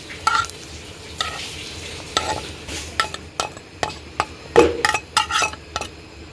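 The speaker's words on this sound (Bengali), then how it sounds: "রসুনগুলো যে ভাজানো ভেজে নেওয়া হয়েছে" Garlic fries in a pan while a spoon stirs it in sharp, irregular scrapes and clinks over a low sizzle. The sound is close and fairly loud, with no talking.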